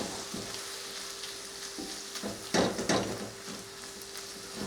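Onions and garlic sizzling in butter and olive oil in a pan while being stirred, with a steady close frying hiss and a few louder scrapes of the utensil, no talking.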